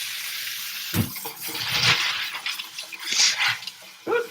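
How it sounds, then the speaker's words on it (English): Water runs from a tap over rocks being rinsed in a sink, a steady splashing rush with clattering knocks of stones shifting, close by. "I'm really gonna rinse them pretty well"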